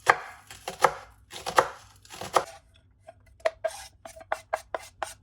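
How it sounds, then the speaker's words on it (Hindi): Onions are chopped with a knife on a board: two quick clusters of firm, close chops, a short pause, then a faster run of sharp, evenly spaced cuts, with no voices. "अब यहाँ पे काटेंगे प्याज।"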